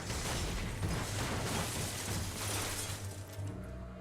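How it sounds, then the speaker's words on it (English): A police car crashes in Telltale's The Walking Dead video game, a loud, dense rush of crunching impact and shattering debris lasting several seconds, with heavy low rumble that thins out at the end. "We're treated to a slightly comical crash as both Lee and the officer are thrown around like rag dolls"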